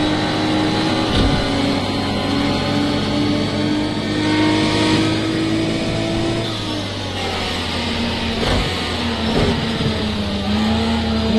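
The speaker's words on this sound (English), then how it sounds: "A lot of the cars sound a bit different to how they did before" Continuous roaring racing car engines in a racing video game at the Catalunya circuit, with shifting revs and gear changes, loud and steady throughout, no talking.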